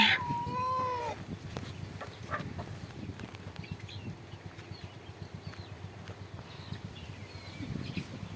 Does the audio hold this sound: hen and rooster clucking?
yes